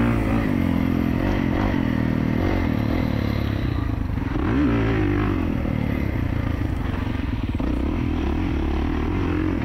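A 2024 Kawasaki KX450 dirt bike engine revs and drones continuously while being ridden, close and loud, with pitch rising and falling as the throttle changes and some clatter mixed in.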